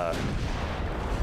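Naval guns firing in the Ultimate Admiral Dreadnoughts warship game, a heavy rolling boom that fills the short moment with dense low rumble, with a voice faintly present.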